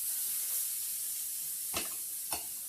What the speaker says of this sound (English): You'll hear it sizzle.